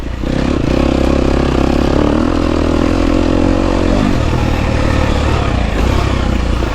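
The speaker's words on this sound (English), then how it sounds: "we're out here, 2025 GasGas EX250F. Got about 5 hours on the bike" A 2025 GasGas EX250F dirt bike being ridden, with about five hours on it: a loud, continuous engine drone close by with a steady low hum, and rough clatter and scrape throughout.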